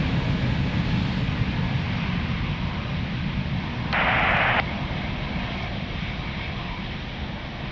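An airliner's engines roar loud and continuous as it takes off from runway 02 at Lisbon Airport, with a brief burst of radio static partway through.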